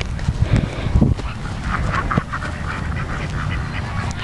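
Ducks at a park quacking close by, several short raspy calls clustered in the first second followed by scattered softer quacks over outdoor background noise.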